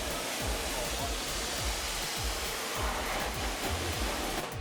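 A hose's water spray rinses dust off a custom vinyl car wrap and a wheel-well fender liner, giving a steady, close hiss of rushing water with irregular splattering pulses as the stream moves across the surfaces.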